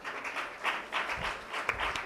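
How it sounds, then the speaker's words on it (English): A corporate conference audience gives a round of applause as a guest is welcomed on stage, soft, fairly distant clapping that stays steady for about two seconds. "Give him a huge round of applause"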